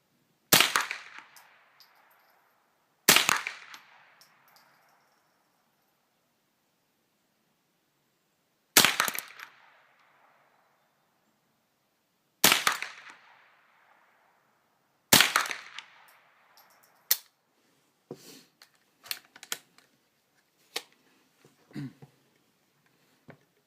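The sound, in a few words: rifle shots firing Winchester bulk pack .22 rounds at target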